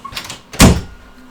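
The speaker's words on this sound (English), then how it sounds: "let me close this door" Door being shut: a short scrape of movement followed by a single solid close thud nearby, then quiet.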